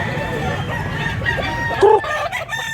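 Roosters crowing and chickens clucking at a gamefowl farm in Mantalungon, Cebu, with young stags in the flock; steady layered calls, one louder crow standing out near the end, with a voice faintly present in the background.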